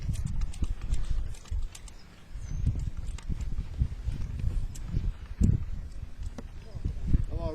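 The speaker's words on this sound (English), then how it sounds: "this is my very first ride on this horse" A horse's hooves clip-clop on its first test ride under a new rider, a steady uneven thudding close by, with rustling and low noise around it.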